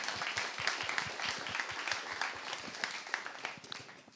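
Room audience at a startup meetup clapping together in a dense, steady round of applause that holds for a few seconds at moderate distance.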